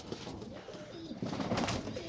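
Soft, close cooing from captured homing pigeons, a couple of low throaty coos rising toward the end, faint and brief.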